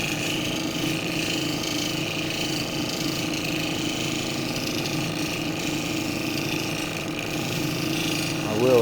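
A lapidary wheel grinds a mahogany obsidian free-form cabochon on a fine 3,000-grit wheel, giving a steady, close whirring hum with a constant grinding rasp that runs evenly throughout without a break.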